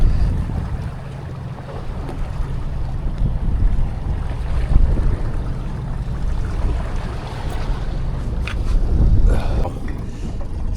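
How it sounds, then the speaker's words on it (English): Strong wind buffets a fishing boat on rough water in Tampa Bay, a loud continuous rushing roar with gusty surges and microphone buffeting throughout. "the day is super rough, very windy"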